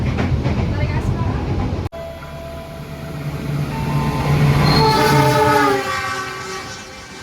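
An economy-class night train from Solo to Jakarta, Indonesia, rumbles in close by at dawn, then sounds a long, loud horn blast as it arrives.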